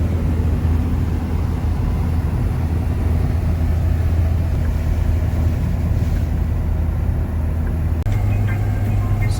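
A car cruises along a road in Portugal in poor driving conditions, with a loud steady engine and road rumble throughout and a slight change in tone near the end; no one talks.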